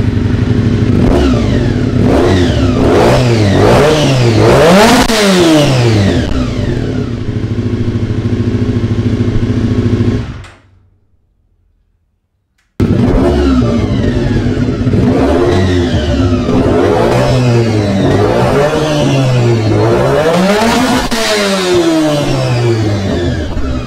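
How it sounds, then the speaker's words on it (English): A Harley-Davidson V-Rod 100th Year Anniversary motorcycle revs hard and loud in repeated rising and falling bursts, cuts to brief silence midway, then returns to more sharp revving. "So let's start up the hard revving little Honda and give it a score."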